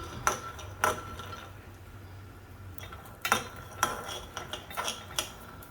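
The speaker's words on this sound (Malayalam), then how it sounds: "ഇത് നന്നായിട്ടൊന്ന് മൊരി വറുത്തെടുക്കണം" Peanuts dry-roasting in a pan for a raw banana dish, a utensil stirring them with sharp metallic clinks and scrapes at irregular intervals over a low, steady background, with no voices.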